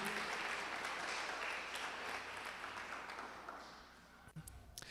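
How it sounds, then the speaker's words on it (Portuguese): A church congregation applauds during a service, dense sustained clapping that gradually thins and fades toward the end, with a few scattered claps and faint voices. "Aplauda ao Senhor"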